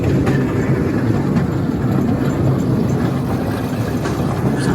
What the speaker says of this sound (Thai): พาเด็กๆขี่ รถไฟครับ